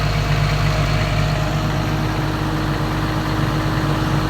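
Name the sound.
Komatsu PC200-8 excavator engine revving at full throttle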